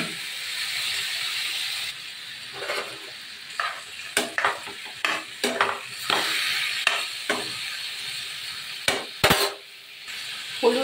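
Crushed elephant apple dropped into hot oil with panch phoron in a pan, a steady close sizzle with repeated sharp clatters and scrapes of stirring over the frying hiss.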